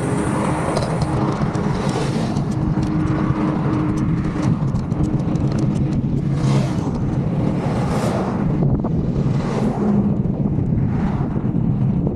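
A car passes on a road in Khalifa City, Abu Dhabi, during an evening bike ride, its swelling engine and tyre rush partly buried under steady, loud wind buffeting on the microphone.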